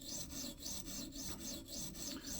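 A pocket knife drawn in full, even rasping strokes across a clamped sharpening stone, about eight regular rubbing passes in a steady rhythm, close and alone.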